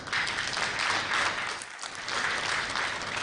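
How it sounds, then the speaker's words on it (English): Sustained applause from an audience at a trade and industry strategy launch event, steady and dense clapping filling the whole stretch with no talk over it. "Let's give him a hand clap."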